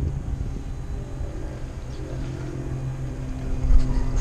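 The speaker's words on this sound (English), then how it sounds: "Why is this pump running here?" A pump hums steadily inside a parked Mitsubishi Outlander PHEV while its auxiliary battery charges, a low, continuous rumble close by that swells slightly near the end.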